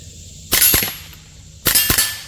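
Two sharp, loud shots from a Ruger 10/22 Charger firing CCI Standard .22 rounds outdoors, each a crisp crack with a short ringing tail, spaced about a second apart, with no speech.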